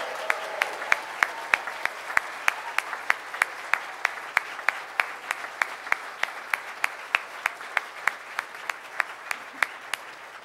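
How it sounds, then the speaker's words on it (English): An audience at a Rotary Club of Tulsa luncheon meeting claps in a steady, even rhythm of sharp, fairly faint claps, without clear cheering or talk. "Turn around and clap and cheer for Rhonda and Terry at the camera right now"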